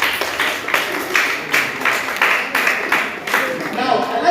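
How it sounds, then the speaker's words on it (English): An audience at a school claps for a student, a mid-level burst of many hands beating in a rough, pulsing rhythm that swells and dips every half second or so, with a few voices mixed in. "Please let us clap for her, please."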